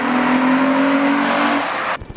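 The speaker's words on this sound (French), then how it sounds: "Mais le V6 déjà fait un bruit qui est fantastique." Ford Mondeo ST220 with its 3-litre V6 engine held at a loud, steady drone for under two seconds, then cut off abruptly into brief low rumbles.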